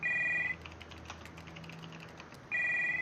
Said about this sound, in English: Behind you, the phone starts to ring.